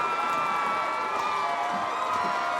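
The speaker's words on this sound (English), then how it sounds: "Very festive crowd here tonight." Festive crowd cheering at a high school football game between Weslaco and Edinburg Vela, a steady wash of distant voices and whoops filling the stadium without a break.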